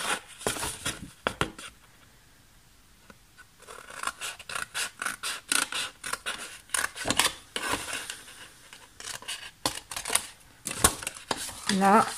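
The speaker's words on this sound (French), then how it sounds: "Donc là, on vient juste couper jusqu'au trait là." Scissors or a blade cut cardboard along a marked line in a series of close, dry scratching and snipping bursts. A quiet pause breaks the cuts, and a voice speaks at times between them.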